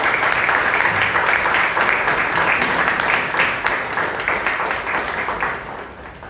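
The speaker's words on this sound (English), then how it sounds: "Let's have a big round of applause." Sustained applause from the audience at a Toastmasters club meeting in Bangalore, a steady dense patter of many hands that holds for several seconds and eases off toward the end.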